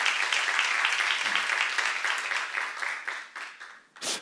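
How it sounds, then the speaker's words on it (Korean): A church congregation at a seminar claps together in a steady, fairly loud round that thins toward the end, with a brief clap burst at the close. "박수로 하나 드리세요."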